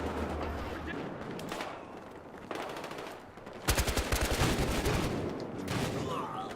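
Automatic gunfire in the video game Battlefield Hardline during a team deathmatch on the Hollywood Heights map, with rapid bursts and a sustained close fusillade midway, dense and loud over faint background noise.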